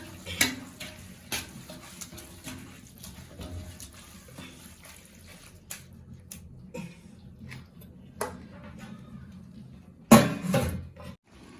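Masala being stirred in a cooking pot for a festive meal: soft, scattered scrapes and clinks of a spoon against the pot at a gentle pace, fairly quiet, with one louder clatter near the end.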